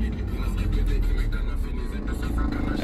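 A car drives along, heard from inside the cabin as a steady low rumble with road noise. It stays even and continuous throughout.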